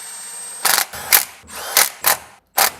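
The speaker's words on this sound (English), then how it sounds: "I'm just gonna hit everything with the gun until it's snug" An impact gun snugs the bolts of a Racer X pitch stop mount on a car, firing five short, loud rattling bursts separated by brief pauses, close up.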